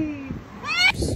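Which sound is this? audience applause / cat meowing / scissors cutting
cat meowing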